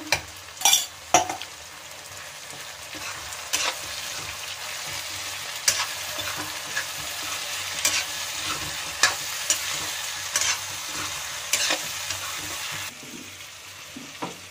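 Ginger-garlic paste fries with a steady sizzle in a pan while a utensil stirs it, giving occasional sharp clinks and scrapes against the metal. No one talks.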